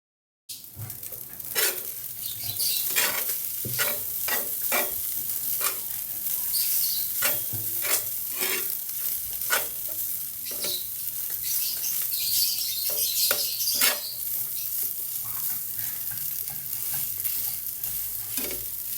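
Leftover hotdog, egg and pancit canton noodles stirred in a sizzling pan, with steady frying hiss and repeated sharp scraping strokes of a utensil throughout, no talking.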